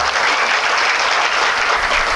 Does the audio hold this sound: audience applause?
yes